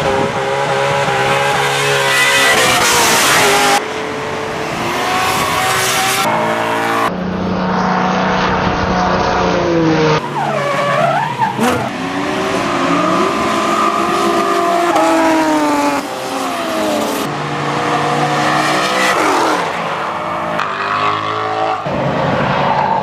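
Drift cars power through the S section of a race track at a Gridlife South event. Loud engines rev and whine in a series of abruptly cut shots, with occasional tire noise.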